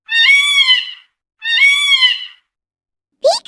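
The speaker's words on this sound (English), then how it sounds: "Peacock." Peacock calls, two loud, shrill, harmonic wails of about a second each separated by silence, then the start of a third sharp cry, clear and close with no background noise.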